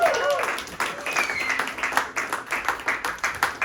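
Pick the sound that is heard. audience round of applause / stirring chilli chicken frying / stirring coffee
audience round of applause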